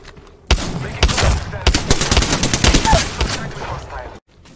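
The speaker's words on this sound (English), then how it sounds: "I'm taking shots." Rapid bursts of automatic gunfire in the battle royale shooter Apex Legends, loud and close, firing almost continuously for several seconds before cutting off abruptly.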